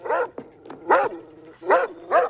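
A dog barks and yelps repeatedly during a tense standoff, about five loud, close barks in uneven rhythm with brief gaps between them.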